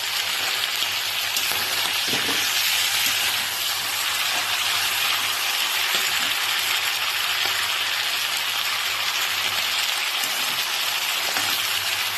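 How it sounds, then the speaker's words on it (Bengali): Green chilies and onion fry in a pan, giving a steady, dense sizzle that continues evenly throughout with no talking. "কাঁচা লঙ্কা এটা ফ্রাই করে নেব সুন্দর করে"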